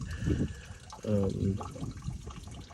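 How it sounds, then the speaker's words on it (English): Coolant drains from a Ford 6.0 Powerstroke diesel engine during water pump work. A steady, close trickle and splash of liquid runs beneath a voice. "So I'm draining my coolant."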